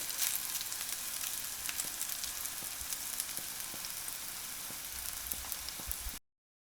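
Meat loaf kebabs fry in a hot pan with a steady, close crackling sizzle and scattered pops that keep going evenly, then cut off abruptly at the end.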